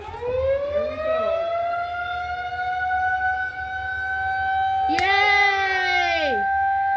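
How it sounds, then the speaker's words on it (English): A Whelen 2001-130 civil defense siren sounds during a test in Bemidji, its loud wail holding a steady rising tone before a second blast starts and winds down; voices and a small crowd can be heard faintly beneath it. "When you hear that siren, what are you supposed to do?"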